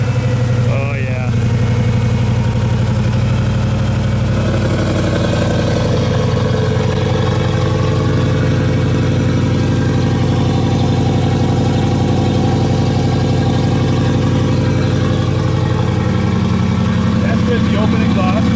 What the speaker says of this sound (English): That's with the open exhaust.